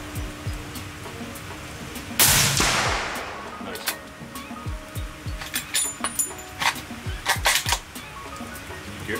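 A Howa rifle chambered in .300 Win Mag fires a single sharp, loud shot outdoors at a shooting range, followed by a brief echoing decay, with rain falling steadily in the background.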